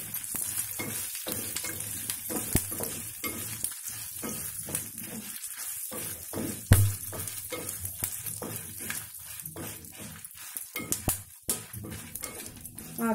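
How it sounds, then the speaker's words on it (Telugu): Cumin, mustard seeds, fenugreek and dried red chilies fry in hot oil as tempering for a coriander pickle, a close sizzle broken up by repeated stirring scrapes and spatula knocks in an uneven rhythm. "పోపులు వేగుతున్నాయి కదా, జీలకర్ర, ఆవాలు, మెంతులు, ఇందులో 10 వరకు ఎండుమిర్చి వేయాలి."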